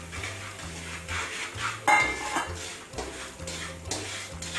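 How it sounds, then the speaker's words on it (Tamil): Semolina roasting in oil for rava kesari, stirred with a spatula in a pan: soft rhythmic scraping strokes with a faint sizzle and an occasional clink, fairly quiet. "இப்போ ரவையை நல்லா 5லிருந்து 6 நிமிஷம் வரையா நல்லா அப்படியே வறுக்கணும்"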